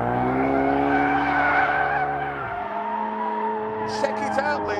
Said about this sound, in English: Check it out. Drifting.